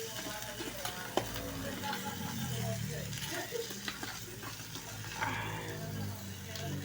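Shrimp and crab sautéing in a pan, a steady sizzle with occasional stirring and clinks of a utensil, with talk over it.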